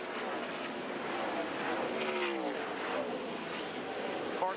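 Stock cars in the 2002 Carolina Dodge Dealers 400 run strung out around the speedway, giving a steady, fairly distant engine drone with one car sweeping past midway, and faint commentary underneath.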